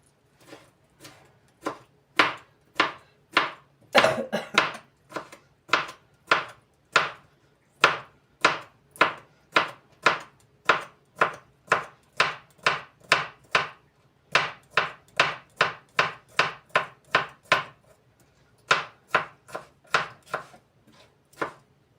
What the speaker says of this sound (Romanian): acum am 2 castraveți aici, care tot așa îi tăiem